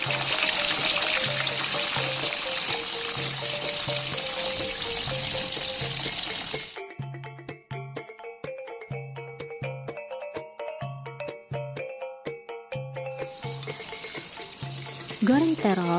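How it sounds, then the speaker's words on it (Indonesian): Eggplant slices, salted beforehand, frying in hot cooking oil with a steady, close hiss and crackle that breaks off midway while a soft melodic background continues, then returns. "Goreng terong hingga warna keemasan."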